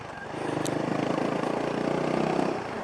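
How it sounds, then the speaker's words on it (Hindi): Motorcycle engine revving as the bike speeds up on a road, a close, steady mid-pitched drone that swells and holds, recorded from a rider's mic with wind rush and no talking. "अब यहाँ पे हम थोड़ा सा बाइक को भगा के चेक करेंगे आवाज़ कैसी आ रही है"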